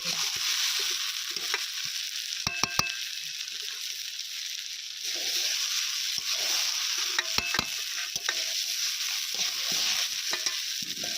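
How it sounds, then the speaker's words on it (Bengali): Rice and spices being stirred in a frying pan, using 1 kg of Napis fried-rice grains for Rajasthani spiced rice: a steady hiss of frying under repeated scraping strokes of the spoon against the pan, close and alone. "মশলা এবং চাল এভাবেই 5 মিনিট ভালোভাবে নাড়াচাড়া করে নিতে হবে।"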